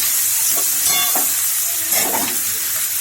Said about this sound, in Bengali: কেটে রাখা ঝিঙে আর আলু দিয়ে দেবো।